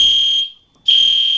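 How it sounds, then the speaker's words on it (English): A loud, steady electronic tone from a school fire alarm sounds close by, cuts out for a moment, then resumes at full strength. No voices are heard. "the fire alarm went off"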